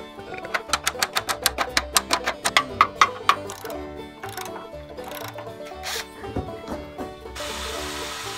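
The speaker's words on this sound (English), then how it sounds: "Drill some more holes." A power drill drills holes in a series of rapid, evenly spaced bursts, followed by irregular knocks and clatter and then a steady whir at the end.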